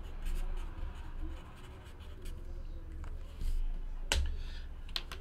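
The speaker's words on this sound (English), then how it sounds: "I'll write his name down on this card so I don't mix all these packs up." A pen scratching a name onto a football trading card from a 2018 Panini Contenders Draft Picks pack, soft steady scribbling strokes with a few light taps, close and quiet, no talk.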